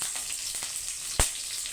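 Chopped onion fries in hot oil with mustard seeds, giving a continuous close hiss and sizzle broken by one sharp pop.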